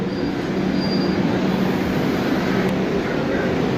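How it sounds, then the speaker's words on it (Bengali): A Kolkata underground metro train rumbles steadily into the station, a continuous heavy roar in the enclosed space with a faint high squeal from the wheels. "ফাইনালি আমাদের মেট্রো আসতেছে"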